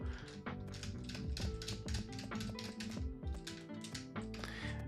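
Keys rattle on a computer keyboard during fast gameplay, a steady stream of quick clicks and taps over dense game music and effects, with no voice heard.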